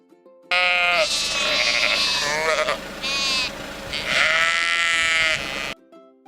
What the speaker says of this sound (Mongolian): Хонь хэрхэн дуурахыг сонсцоогоорой хүүхдүүдээ.